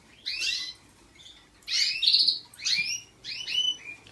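Yellow canaries in breeding cages chirp in several short, bright bursts of song, fairly close and clear against a quiet background.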